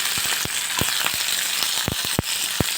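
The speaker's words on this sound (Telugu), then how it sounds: "అదే ప్యాన్లో కొద్దిగా ఆయిల్ వేసేసి టమాటో ఆనియన్ పచ్చిమిర్చి అయితే ఇలా" Tomato, onion and green chillies sizzle in a little oil in a pan under a bright, constant hiss, with sharp pops and crackles bursting irregularly throughout.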